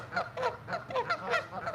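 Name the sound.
geese honking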